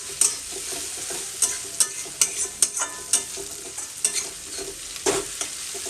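Spice masala sautés in a pan for a chicken curry, a soft sizzle under frequent sharp scrapes and taps of a spoon stirring, close and fairly loud.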